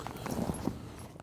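Rodeo pickup horses walk with a few quick clip-clopping hoof steps on hard ground, moderately quiet and brief.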